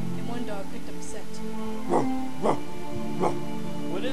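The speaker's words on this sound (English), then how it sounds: "and one dog picked up a scent." A dog barks several times in short, spaced bursts, fairly close, over a steady background hum.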